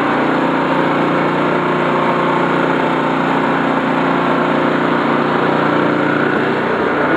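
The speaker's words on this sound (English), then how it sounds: "We just did a cold start on the old Ariens snowblower. We got that thing running." An old Ariens snowblower engine runs steadily after a cold start, a loud, constant high-pitched small-engine drone with an even buzzing idle throughout and no talk.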